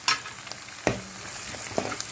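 Sun-dried vadiyalu fry in a pan for tamarind pulusu, giving a soft, hissing sizzle broken by a few sharp taps of stirring.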